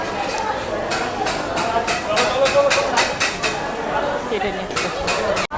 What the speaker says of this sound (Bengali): ছেড়ে দিল আমাদের ট্রেনটা বর্ধমান স্টেশন থেকে